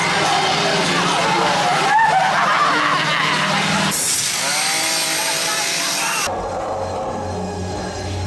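A chainsaw revs and snarls inside a Texas Chainsaw Massacre haunted house at a Halloween horror event, loud and close, mixed with screams, music and crowd noise that change abruptly between scenes.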